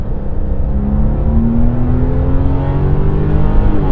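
A Porsche 996.1 flat-six, a smaller-displacement, rev-happy engine, climbs steadily in pitch as it revs hard and close, a continuous loud whining drone throughout.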